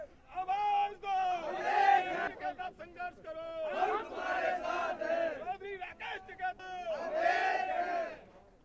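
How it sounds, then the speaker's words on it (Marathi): Farmers at the Ghazipur border on the Delhi–Uttar Pradesh line chant slogans loudly together, a crowd of raised voices rising and falling in repeated waves of shouting, close and forceful. "दुसरीकडे दिल्ली उत्तर प्रदेशच्या गाझीपूर सीमेवर असलेल्या शेतकऱ्यांनी जोरदार घोषणाबाजी देखील केली"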